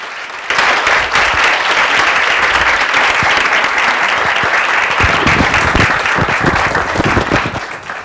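A large audience applauds a speaker onto the stage, a sustained, dense roar of clapping that starts abruptly and holds steady before tapering off at the end.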